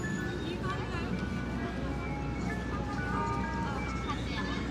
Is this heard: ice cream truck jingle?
yes